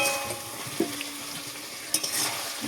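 Fried potatoes are stirred into cooked meat in a pan, giving a soft continuous sizzle with a few sharp scrapes and taps of a spoon against the pan.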